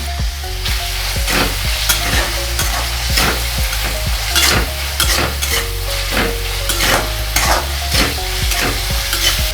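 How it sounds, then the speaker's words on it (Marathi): Tomatoes sauté in a pan for eggplant bhaji. A loud, close sizzle runs throughout, with rhythmic scraping strokes of a spoon stirring roughly every half second. "आता आपला टोमॅटो छान परतलेला आहे आणि शिजला पण आहे"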